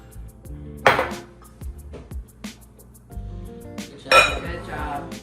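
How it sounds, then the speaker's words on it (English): Butter being dumped from a heavy container into a mixing bowl while baking cookies with a toddler: a few sharp clinks and clatters of bowl and utensils with softer thuds between, close by and irregular. "We're gonna dump all of it in this bowl."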